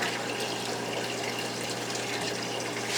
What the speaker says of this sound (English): This bucket's almost filled.